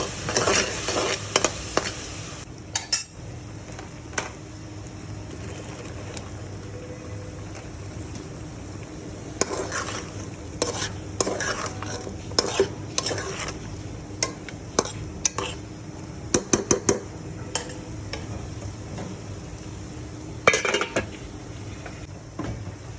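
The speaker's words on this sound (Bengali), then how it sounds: "সবজিটা কষানো হচ্ছে" Pointed gourd and potato sautéing in a pan with turmeric and chili powder: a steady low sizzle with scattered clusters of spoon scrapes and clinks against the pan, close and fairly quiet, with no talking.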